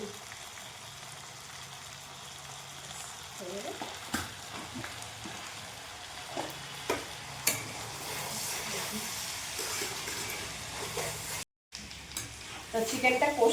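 Chicken cooks in oil with coriander and Kashmiri red chilli spices, sizzling steadily throughout with intermittent scraping stirs and spatula knocks, a brief dropout near the end, then louder bubbling and crackling at the close.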